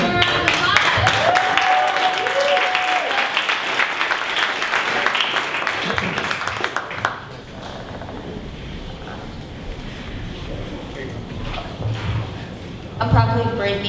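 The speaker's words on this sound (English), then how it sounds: "Let's give her a round of applause." Audience applause at a 1 Million Cups Dallas startup presentation event: a broad, dense burst of clapping that fills the first seven seconds, then fades to room murmur with a brief rustle near the end.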